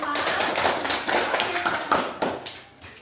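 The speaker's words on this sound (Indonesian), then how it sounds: "Tepuk tangan untuk kelompok 5" Students in a classroom clap for a group of classmates, a quick burst of scattered, uneven hand claps close by that thins out toward the end.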